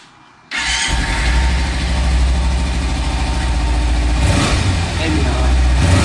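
A Kawasaki Versys 300 engine with stock exhaust cranks and catches after a brief quiet moment, then settles into a loud, steady idle with a mild rev near the end.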